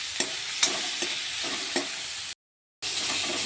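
Prawns frying on top of onions in a pan, a low steady sizzle with a string of light rhythmic spatula taps, cut by a brief silent gap before the hiss resumes.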